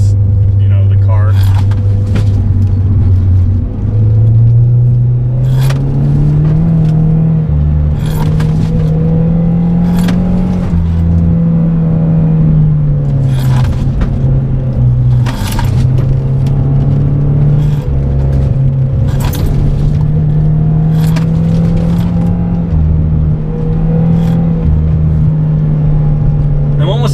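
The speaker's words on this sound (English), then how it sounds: "At red line in second gear, and I really don't want to shift into third gear" A car with new Maptun suspension held at red line in second gear during hard driving, its engine droning loud and steady with slight pitch swells, while someone talks over it and sharp clicks and knocks punctuate the run.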